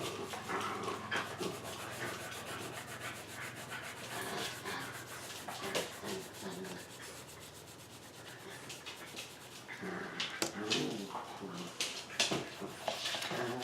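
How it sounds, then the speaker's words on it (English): A Yorkie and a pit bull roughhousing indoors close by: continuous rubbing and scuffling, quick panting and small whimpers, fairly faint and unbroken for the whole stretch, with no talk over it. "that is my Yorkie that you hear because he likes to roughhouse"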